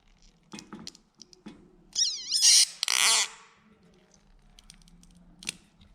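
Scissors snip through a lab specimen in a few quick, close cuts with a squeaky, scraping edge, set among quiet lab handling noises and faint speech.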